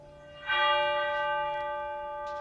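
A church bell rings out in a steady series of chimes, its sustained metallic tones layering and ringing on as the strikes continue alone.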